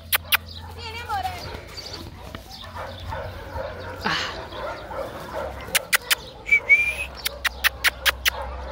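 A puppy whimpers and yips amid sharp clicks and rustling, with someone speaking Italian throughout; a burst of short high yelps and clicks comes near the end.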